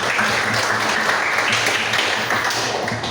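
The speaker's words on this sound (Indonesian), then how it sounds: "Kita berikan tepuk tangan." Classroom applause for a student's correct answer during a physics lesson, a steady wash of many hands clapping at once, fairly loud and continuous throughout.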